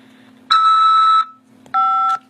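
An automated phone system for an incoming corrections-facility call gives two loud electronic beeps, a longer tone then a shorter one after a short gap, clean and close over a faint steady hum.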